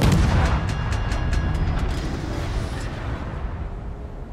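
In World of Warships, the guns of the British Tier X destroyer Daring fire a rapid run of booming shots early on, and the blasts trail off into a long, rumbling decay.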